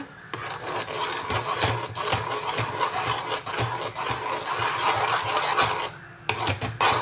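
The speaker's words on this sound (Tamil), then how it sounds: "இப்போ இருக்கிற இன்னும் நெய்யை ஃபுல்லாகவே நம்ம ஊற்றி நல்லா கிண்டிக்கலாம்" Thick halwa being stirred with plenty of ghee in a pan, loud continuous scraping and rubbing strokes of a spoon against the pan, with a short pause near the end.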